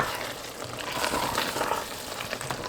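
A pan of Mughlai beef curry with yogurt being stirred, giving a steady soft sizzle and wet scraping that fills the short stretch without any talking.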